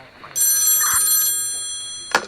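An old-style telephone bell rings loudly and close in one long trilling burst of about a second, then fades, and a brief clunk follows as if the receiver is picked up.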